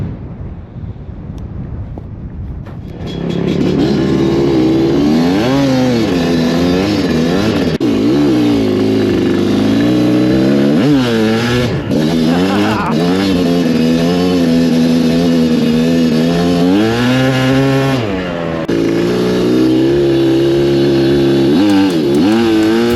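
An ATV engine on the sand dunes of Winchester Bay starts up after a quiet moment, then revs hard and repeatedly, rising and falling in pitch, loud and close with wind buffeting the microphone.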